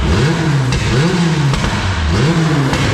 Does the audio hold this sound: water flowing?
no